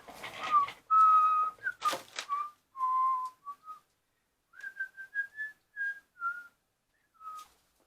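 A person whistles to call a dog, a bright melodic run of short, sliding notes in two bursts with pauses between them, close and clear with no talking.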